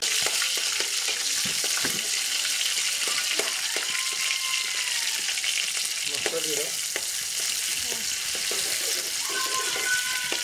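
Koi and taki fish frying in oil in a pan, a continuous close sizzle with scattered crackles and pops and occasional stirring or scraping, with no voices.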